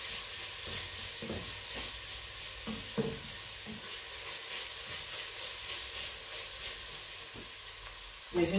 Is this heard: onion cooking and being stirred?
yes